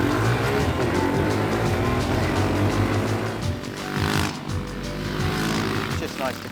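Several cars revving hard at the start of a grassroots race, loud engine roar sustained throughout with rising and falling pitch as they pull away, people talking beneath the noise.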